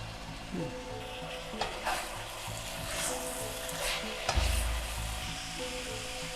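Carrot and bamboo shoot stir-fry for spring roll filling, cooked until the vegetable water cooks off. A steady sizzle runs throughout, broken by spatula scrapes and a soft knock near the end.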